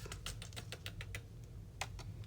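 Excess clear embossing powder is tipped off a sheet of scratch paper, making a series of soft, quick granular ticks and rustles close by.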